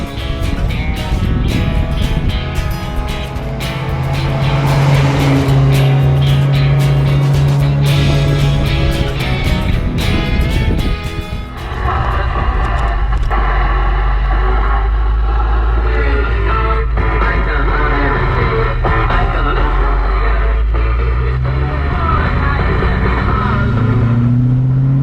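A 1986 Ford Mustang GT with a 5.0 V8 and five-speed manual drones loudly on the road, its low engine note steady, then shifting pitch midway as it changes gear and pulls on.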